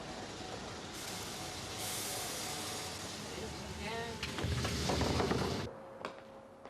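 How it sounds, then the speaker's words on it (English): A train pulling into Rains Park station, a steady rolling rumble and hiss that swells as the carriages come in, then cuts off abruptly, with a voice talking over it. "The train arrived at Rains Park at 11:53."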